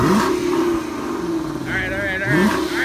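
A 2016 Ford 5.0 V8 with an X-pipe exhaust revs in repeated rising and falling pulls, loud and close, while people talk over it.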